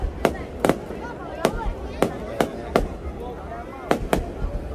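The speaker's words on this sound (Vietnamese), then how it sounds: "màn bắn pháo hoa rất là tuyệt vời" Fireworks display at Cua Lo, Nghe An: sharp, loud bangs burst at irregular intervals, about nine in under five seconds, over a low murmur of background noise.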